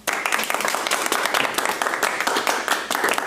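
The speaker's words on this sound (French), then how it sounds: "Vos applaudissements." An audience applauds steadily for several seconds, dense close clapping that starts abruptly and keeps an even rhythm with small surges.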